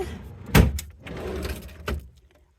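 A refrigerator cheese drawer is pulled open, giving two short knocking clunks close by, the first louder than the second, with a soft sliding rumble between them and no talk.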